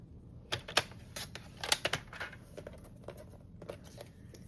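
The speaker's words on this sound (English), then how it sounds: "this piece I'm going to cut at 1 1/4." A paper piece cut to size for an accordion-style flip flap layout, heard as a series of crisp, close clicks and snips in uneven bursts, fairly quiet and without talk.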